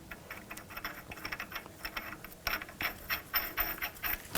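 Rapid ratchet clicking tightens the front axle nut on a 2000-2006 BMW X5 during a CV axle replacement, a close, steady run of metallic ticks growing slightly louder toward the end, with no talk.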